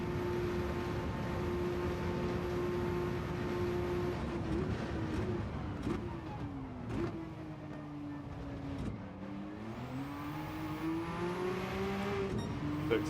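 Car engine in the Gran Turismo 7 racing game, a sustained droning hum that rises and dips in pitch through gear changes and throttle shifts, steady and fairly loud with no talking over it.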